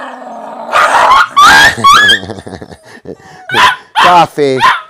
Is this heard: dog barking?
yes